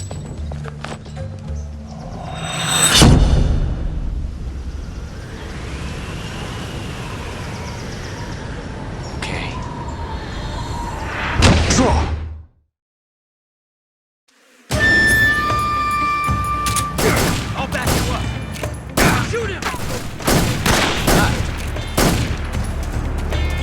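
Gunfire in Metal Gear Solid 3: Snake Eater, with sharp loud shots near 3 s and 11.5 s over a busy game soundscape, a brief silence, then a dense run of repeated cracks and impacts.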